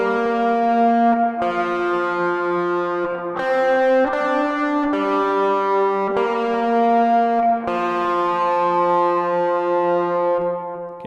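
An overdriven electric guitar plays the intro riff of a song, sustained distorted notes moving through a short melodic line with brief pick attacks, loud and close with no talking.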